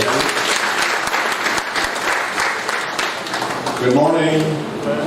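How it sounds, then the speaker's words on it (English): Audience applause at a university symposium launch, steady dense clapping from a large crowd throughout, with a voice speaking over it near the end. "Another round of applause for our director, Paul."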